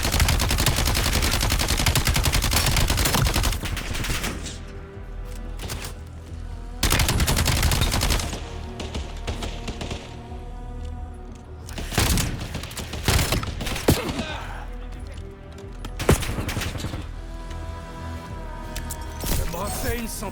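Bursts of sniper fire ring out in the Black Ops 7 video game campaign, with loud shots in separate clusters and quieter stretches between them, and a voice speaking at times.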